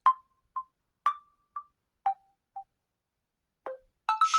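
The Retro beep tone on a Samsung phone sounds as short, clean electronic beeps in high-low pairs, evenly spaced and alone, ending with a brief buzzier burst.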